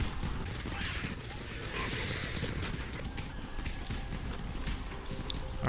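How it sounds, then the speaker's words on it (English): Firecrackers pop in a zombie-filled scene in the Dying Light video game, a quiet, rapid scatter of small crackling bursts running continuously over a low background rumble. "Throw down some more firecrackers and gather up a few more zombies."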